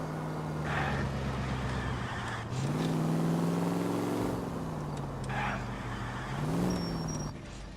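A police car engine in L.A. Noire drones loudly and continuously, its pitch rising and falling as the vehicle accelerates and eases off, with faint road noise beneath.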